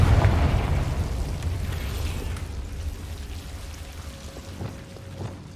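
A Confringo blasting spell from the Hogwarts Legacy video game bursts loudly at the start, a heavy explosive boom that decays into a rumbling, crackling tail with scattered small pops.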